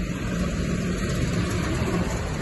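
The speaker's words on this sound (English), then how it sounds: "Another tractor trailer for the same job." A tractor trailer engine on a farm where New Holland machinery arrives, a steady, dense low rumble holding constant throughout with no speech.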